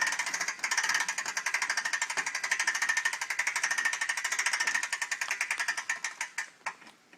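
The winch ratchet on an ATV log arch skidder rated for one ton clatters in fast, even mechanical clicks as it is cranked. It is close and steady, then slows into a few separate clicks before stopping.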